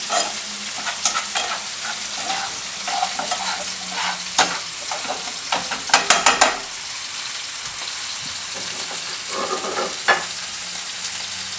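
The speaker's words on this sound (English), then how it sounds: "Dump a little bit of the marinade into the noodle mushroom mixture. Give it a little more heat." Noodle and mushroom mixture with marinade sizzling hard in a hot pan, a loud steady frying hiss up close with occasional clinks and stirring scrapes of a utensil against the pan, no voices.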